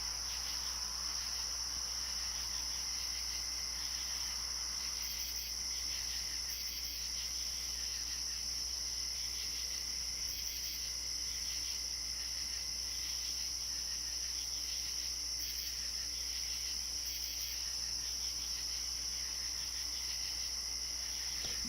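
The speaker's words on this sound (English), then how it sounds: "Forget about the crickets." Crickets chirp steadily throughout, a continuous high-pitched trill under quiet outdoor night ambience, with no talking.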